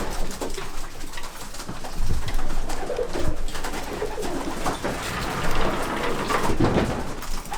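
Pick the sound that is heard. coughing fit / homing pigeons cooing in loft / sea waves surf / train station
homing pigeons cooing in loft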